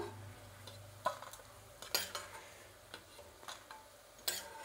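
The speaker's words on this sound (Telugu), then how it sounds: "ఎండుమిరపకాయలు అనేది చూడండి ఈ మాత్రం వేగిందండి" Dried red chillies fry in oil: a faint, low sizzle sits under scattered clicks and scrapes of a utensil stirring in the pan, close and quiet.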